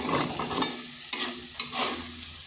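Potatoes frying over medium heat hiss in a pan, and a utensil stirs and scrapes them in quick, uneven strokes, loud and close.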